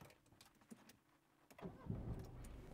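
A car engine is started with the ignition key during a driving lesson, with a faint click and rattle before the motor catches at about midpoint and settles into a steady, fairly loud running rumble close by.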